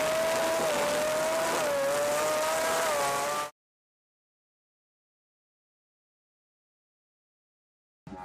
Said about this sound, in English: Racing M3 BMW.